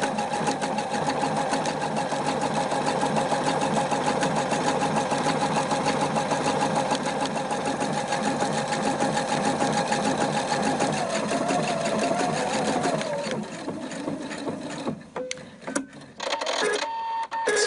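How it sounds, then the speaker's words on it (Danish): A sewing machine stitches steadily through a fabric patch, changing sewing direction at the press of its reverse button, then the running grows choppy with short stops and restarts near the end. "Maskinen syr med i alle fire retninger og ændrer simpelthen retning, hver gang jeg trykker på min tilbagesynsknap."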